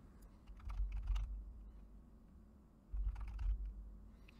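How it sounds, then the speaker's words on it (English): Two short bursts of typing on a computer keyboard as a city name is entered, quick soft key clicks close by, separated by a brief pause, with no voices. "or by typing in a city."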